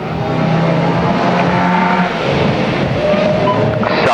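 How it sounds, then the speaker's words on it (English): Stock hatchback race cars lap a track during a heat at King's Lynn, engines droning loudly and continuously as several cars pass, with a steady roar and shifting pitch. "this second grid of stock hatches for their first heat today, well spread out around the track now"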